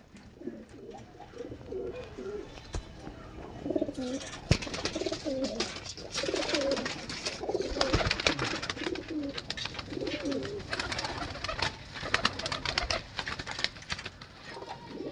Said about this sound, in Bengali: সবগুলোই গোল্ডেন পেয়ার